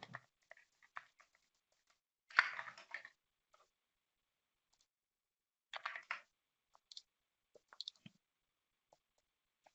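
Quiet typing on a computer keyboard with mouse clicks during software work, sparse light taps and a couple of short bursts of keystrokes separated by silence.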